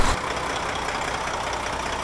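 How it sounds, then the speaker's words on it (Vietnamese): The engine of a Thaco BlueSky 45-seat coach in Euro Truck Simulator 2 fires up with a brief burst. It settles at once into a loud, steady, rumbling idle that runs on alone. "Rồi bây giờ mình sẽ nổ máy luôn."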